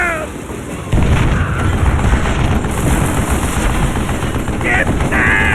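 Sustained, loud close-range gunfire in the Western shooter Call of Juarez: Gunslinger: a dense, continuous volley of shots begins about a second in and keeps going to the end.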